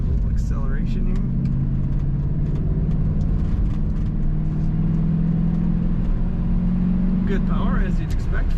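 A 1988 Mercedes-Benz 560SL convertible's engine hums steadily as it rolls along around a roundabout, its pitch climbing gradually under a loud road rumble, with someone talking briefly over it.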